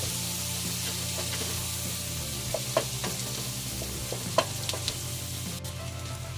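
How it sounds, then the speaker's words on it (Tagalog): White and purple onions fry in oil with a continuous close sizzle, punctuated by occasional clicks and scrapes of a utensil stirring them in the pan. "Tsaka naglagay ng konting oil para hindi masunog. Naglagay ng sibuyas guys, white onion at saka purple."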